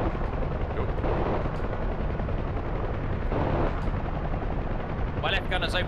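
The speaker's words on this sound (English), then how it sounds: "My left gunner's opening up now." Helicopter door gunner's machine gun firing in a combat flight video game, a steady heavy rattle blended with rotor noise that runs the whole time, loud and close, with a brief higher burst near the end.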